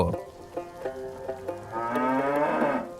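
A cow moos several times in a row, short calls building into a long, loud, drawn-out low moo nearby.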